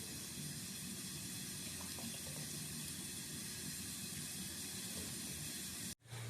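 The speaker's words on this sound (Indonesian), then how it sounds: "Kemudian kita tunggu airnya sampai mendidih" Water bubbles and hisses in a steady, rushing roll that continues unchanged until a brief cut near the end.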